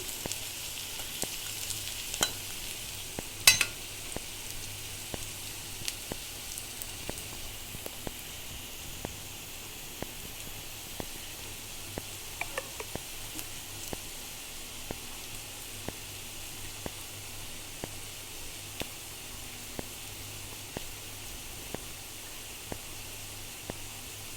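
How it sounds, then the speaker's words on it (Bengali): Fritters (bora) frying in oil over high heat give a steady, even hiss throughout, dotted with small, sharp pops and crackles at irregular intervals. "তো বড়াগুলো কিন্তু হয়ে গেছে ভাজা।"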